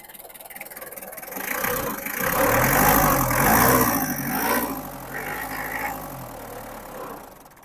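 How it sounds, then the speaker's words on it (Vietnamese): Komatsu 2-ton forklift with a 4D94E diesel engine running close by, idling and then revving up with a rising and falling drone before settling back. "cho bác xem được phần động cơ"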